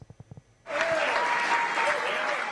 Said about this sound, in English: Applause for the president and support.